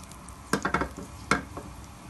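Garlic goes into hot palm oil (dendê) in a pan for Bahian moqueca, a quick cluster of clinks and soft spatters followed by one more knock, close and fairly quiet, without speech.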